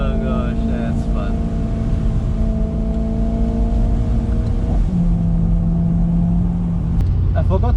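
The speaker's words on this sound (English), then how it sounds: "Loud exhaust, the V8, M performance exhaust." A BMW E93 M3 with its 4.0L V8 and M Performance exhaust drones steadily in the background while cruising and briefly shifts pitch, heard under a voice as he talks over it.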